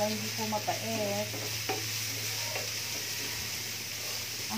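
Garlic sautés with onions in a pan, giving a steady, close sizzle with light stirring and a low hum underneath, and a few brief clinks early on.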